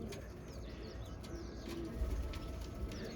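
Pigeons coo faintly at a rooftop loft, low murmuring calls under a steady background hiss with a few light chirps scattered through.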